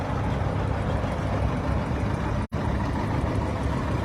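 A 1961 John Deere 3010 gas tractor, a 201 cubic inch four-cylinder with big intake and exhaust manifolds, rolls in a parade, its steady, dense engine rumble filling the air with a brief dropout midway.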